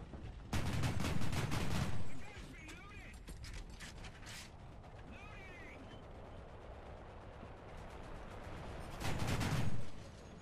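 A German Wirbelwind anti-aircraft gun in War Thunder fires two loud, rapid rattling bursts, one near the start and one near the end, with quieter mechanical clatter and game ambience between them.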